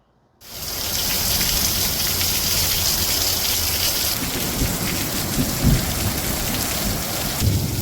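Heavy rain pours steadily in South Florida after a brief silence, with low rumbles of thunder rolling in the background partway through.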